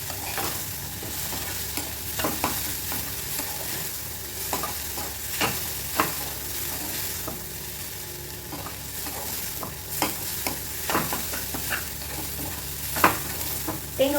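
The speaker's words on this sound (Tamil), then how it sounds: "இதையும் போட்டு நல்லா மிக்ஸ் பண்ணிக்கலாம்" Grated coconut stirred into a banana flower stir-fry in a pan: quiet, repeated scraping and tapping strokes over a faint, low sizzle, with no talking.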